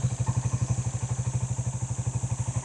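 A motorcycle engine, just restarted, runs at a steady idle close by, its rapid, even chugging pulses unbroken throughout, with no talk over it.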